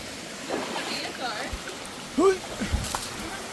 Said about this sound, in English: You kind of have to walk through the water here